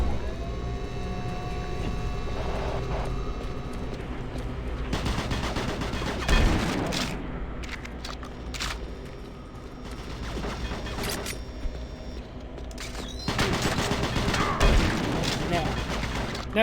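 Enemy gunfire in Doom 3, bursts of rapid shots and booming hits over a droning game background, loud and close, with a pause in the middle and a player talking over parts of it.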